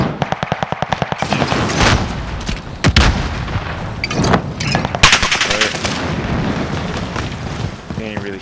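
Rapid rifle fire from a G43 in the Call of Duty Modern Warfare video game, a fast string of sharp loud shots at the start followed by scattered bursts, booms and heavy game action, with a voice talking over parts of it.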